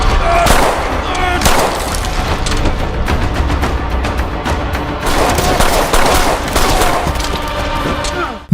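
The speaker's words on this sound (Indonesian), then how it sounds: "Naasnya, kepala Saju ditembak oleh Gopal ketika dia hampir membantai semua polisi" Loud gunfire crackles through an action film scene, with sharp repeated shots and bursts layered over a dense, chaotic background.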